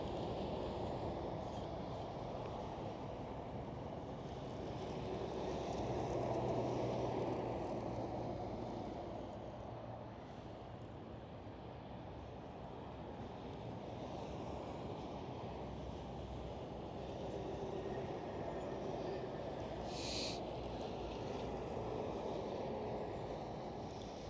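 A Boeing 777 airliner departing at Amsterdam Schiphol, a broad steady roar of engine noise with wind, swelling slightly and holding for the whole stretch, no voices.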